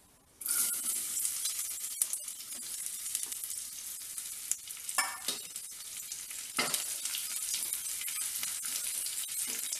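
Grated coconut for Kerala kalathappam sizzles steadily in a hot pan, with a spatula scraping and stirring through the constant frying hiss and occasional clinks.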